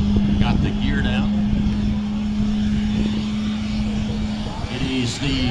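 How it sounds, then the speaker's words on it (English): A Boeing C-17 Globemaster flies low and slows with its gear down, a steady loud engine drone and whine sustained throughout while someone talks over it. "Captain Ken now slowing the aircraft down and extending the leading edge slats and those big power lift flaps"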